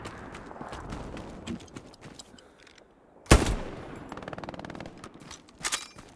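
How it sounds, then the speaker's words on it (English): Machine gun fire in the WWII shooter Hell Let Loose, distant bursts of automatic shots crackling across the battlefield, with one sharp loud blast mid-way and scattered shots and footsteps around it. "Need to kill that MG ASAP"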